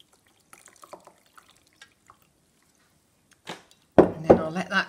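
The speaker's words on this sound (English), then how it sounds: "Strain it through into a jug." Garlic-infused water is strained through into a jug: scattered soft drips and clinks at first, then a louder gush of pouring liquid near the end.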